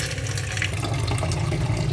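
Water poured into a cooking pot, a brief continuous splashing gush heard close and steady throughout.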